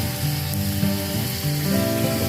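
Snakeskin gourami with ginger and plenty of pepper bubbles hard in a pan, a steady close sizzle and hiss with an underlying hum and no talk.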